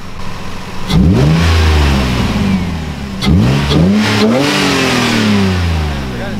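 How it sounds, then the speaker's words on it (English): Lexus IS300 car engine revved from idle in two loud bursts, each climbing sharply then settling back to a steady idle rumble, close by with no talk. "I'm gonna rev this bitch up."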